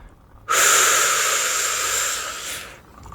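A single long, deep breath taken close to the microphone in a quiet ASMR setting. It starts abruptly as a loud, airy hiss, holds steady for about two seconds, then fades away.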